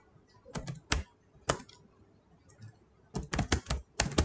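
Computer keyboard being typed on, close and fairly quiet, with scattered clusters of sharp key clicks separated by short pauses.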